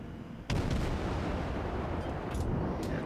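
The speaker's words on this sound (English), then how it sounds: "So I take a few shots with my gun." Ship's guns fire in a naval video game: a sudden heavy boom opens a dense, sustained rumble, with a few sharper reports following close behind, loud and without speech.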